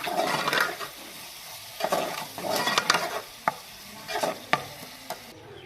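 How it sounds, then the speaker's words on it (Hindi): Spices frying in a pan for a cabbage, pea and potato dish, stirred in bursts: scraping strokes come and go over a light sizzle, with a couple of sharp clicks of the spoon against the pan. "मसालों को हम 2 मिनट के लिए भून लेंगे, अच्छे से मिक्स कर लेंगे।"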